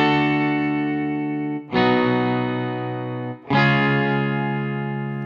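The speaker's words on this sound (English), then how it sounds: "let's take a listen to what the stereo guitar chords sound like without chorus" Three sustained electric guitar chords ring out in turn, each struck cleanly and held, dry with no shimmering chorus.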